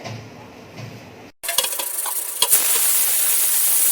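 Ridge gourd and chana dal are stirred in a hot pressure cooker over medium-high gas, with loud sizzling and scraping that starts suddenly after a short quiet stretch and keeps going.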